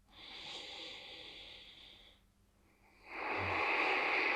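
Slow, deep breaths are taken during a relaxing yoga stretch. One long airy breath is followed by a brief pause, then a second full, rushing breath heard up close.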